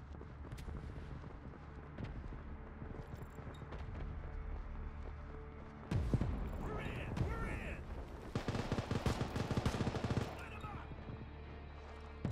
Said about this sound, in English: Is that you that's shooting?